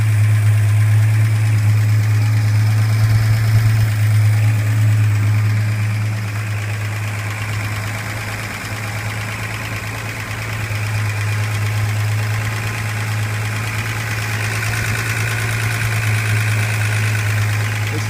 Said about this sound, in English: It's a shame you can't see all the working parts of the engine